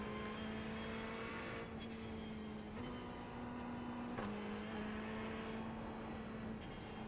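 A Ferrari 488 GT3 EVO race car in the iRacing sim at Mosport gives a steady, dense engine drone that shifts pitch with gear changes. The sound is continuous, with no talking.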